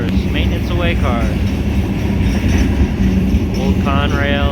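CSX maintenance train cars, old gondolas led by an AC44CW locomotive, rumble past close by in Sykesville with a steady heavy roar and rhythmic clatter of wheels on track, with a person talking over part of it.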